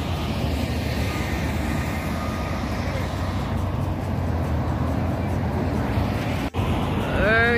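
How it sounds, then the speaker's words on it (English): Steady roar of street traffic in Montego Bay, with heavy vehicle engines rumbling continuously close by, a brief dropout near the end and a rising whine at the close. "Enjoy the sounds of the traffic."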